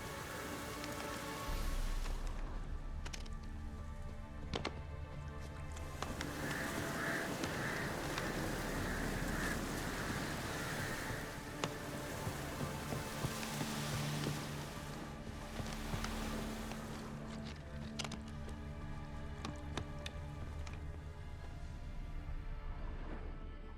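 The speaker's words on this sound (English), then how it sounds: "Looks like rain." Steady rain in The Witcher 3 game world, a continuous wash of drops spattering on surfaces with a few sharper taps, holding at a moderate level throughout with no talking.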